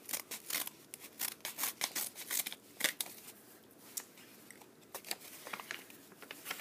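A card package being torn and opened up close, a series of crisp rustling and crinkling bursts in an irregular rhythm, fairly quiet, with no talking over it.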